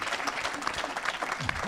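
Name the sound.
applause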